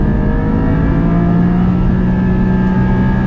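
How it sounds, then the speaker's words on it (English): A Porsche Boxster Spyder pulling hard in second gear toward the rev limiter, a loud, sustained engine note heard from inside the cabin, steady and continuous with no voices. "I'm going to put it into second gear and show you how fast we go in second gear."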